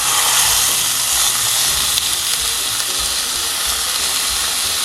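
A thin center-cut pork chop sizzles steadily in a Dash egg bite maker, giving an even, close, continuous hiss and crackle with no talking.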